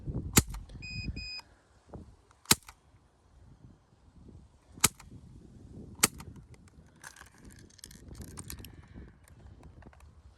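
Several sharp, snappy pops from a Crosman C11 plastic air pistol ring out a couple of seconds apart over quiet room noise, with a few faint electronic beeps.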